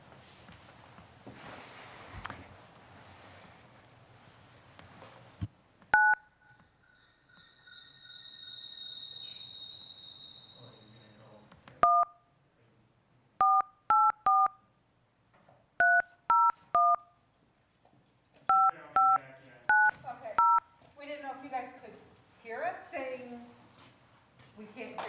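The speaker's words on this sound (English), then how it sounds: "He's dialing in." Touch-tone dialing into a Google Meet call: bursts of paired DTMF beeps in quick groups, preceded by a steady dial-type tone, with talk and room noise at the start.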